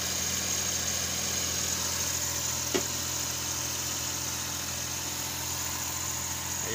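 Suzuki DA63T multicab engine idling steadily after a restart, a continuous moderate hum with a brief click partway through, no talking.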